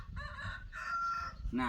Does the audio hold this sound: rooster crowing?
yes